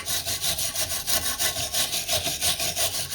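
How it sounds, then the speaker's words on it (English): Wire brush scrubbing a corroded car battery terminal clamped in a vise, a steady rhythmic back-and-forth rasping at close range, about a dozen strokes. "And I'm going to take my wire brush again."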